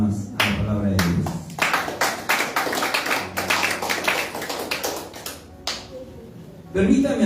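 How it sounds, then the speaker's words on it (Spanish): A church congregation claps with sharp, irregular hand slaps in a hall, loud and dense at first, then thinning out, with voices mixed in. "Dale una ofrenda de palmas a la palabra de Dios."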